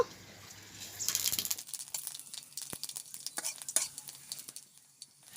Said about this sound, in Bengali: আর একটু সর্ষের তেল দিয়ে দেব দুটো শুকনো লঙ্কা দেব পাঁচ ফোড়নটা দিয়ে দেব